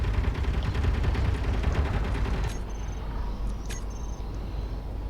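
Rapid, continuous automatic turret fire in the Space Engineers game, dense and loud for the first half, then dropping to a lower mechanical hum with a few light clicks.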